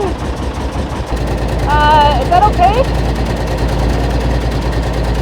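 Diesel engine of a Unimog truck idling in cold weather, a steady low rumble with a leaking muffler, running continuously under nearby conversation and a brief squeaky tonal sound partway through.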